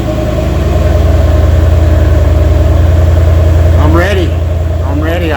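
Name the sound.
2018 Mercedes-AMG E63S Edition 1 engine idling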